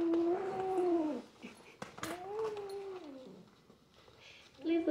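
An unhappy cat meows loudly and plaintively while being placed into a cat carrier bag, giving two long drawn-out cries with a short third starting at the end, close to the mic.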